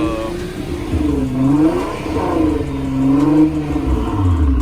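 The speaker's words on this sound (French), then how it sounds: "on accélère petit à petit pour pouvoir tester le bruit" Nissan GT-R engine revving under acceleration, rising and falling in repeated sweeping pulls, loud and close, with a deep rumble underneath throughout.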